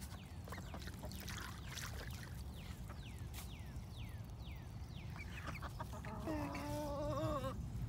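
A blue splash Marans hen clucks in a run of soft, descending calls, moderately close, over a steady low rumble of background noise, with a short burst of higher sustained notes near the end.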